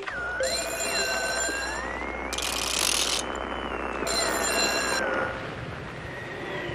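A picture phone on the 1986 Pee-wee's Playhouse set rings in three bright, electronic bursts spaced about a second apart, with warbling sliding tones and a low mechanical hum running under them.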